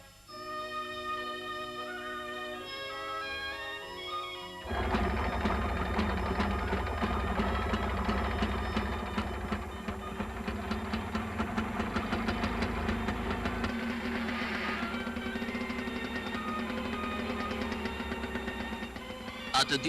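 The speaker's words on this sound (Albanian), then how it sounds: "Erdhi dita kur Merushja provoi të ndesë traktorin e saj" A repaired tractor engine cranks and catches, then settles into a loud, steady running chug with a knocking rhythm. A musical tone plays before the start.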